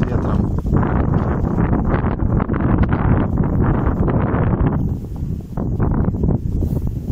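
Strong wind buffets the microphone outdoors at a shooting range, a loud continuous roar with gusting surges and rustling, and no shots or voices are heard.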